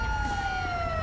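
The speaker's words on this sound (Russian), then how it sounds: "Можно просто сирену отключить" A police siren in the video game GTA 5 wails steadily, a loud sustained tone sliding slowly downward, heard alone.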